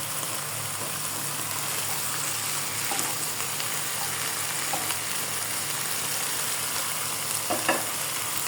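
Yellow bell peppers fry in a pan for colourful rice, a steady close sizzle with occasional light stirring clicks and scrapes throughout.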